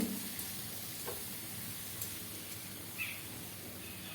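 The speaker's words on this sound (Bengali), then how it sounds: "এবার লঙ্কা গুঁড়ো আর হলুদ গুঁড়ো দিয়ে আমি এটাকে 2 মিনিট রান্না করে নেব। সিমগুলো ভাজা ভাজা হয়ে আসবে।" Flat beans fry in a pan with chilli and turmeric powder, giving a soft, steady sizzle that stays faint throughout, with a few light clicks and no talking.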